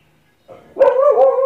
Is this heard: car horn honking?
no